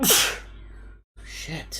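A single sharp sneeze bursts out close to the microphone during a live futures-trading stream, followed by a brief pause and a quiet muttered word.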